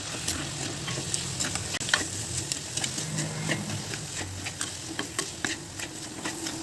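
Coriander powder, chili powder and meat masala being stirred together in a hot pan, a steady close sizzle with frequent quick scraping and tapping strokes of the spoon, no voices.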